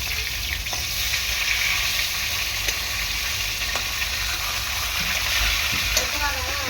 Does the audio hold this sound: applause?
no